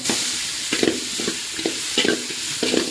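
Chopped onion sautéing in a pan for hotel-style noodles, a loud continuous sizzle with a regular rhythm of spatula strokes scraping through it, close up and without speech.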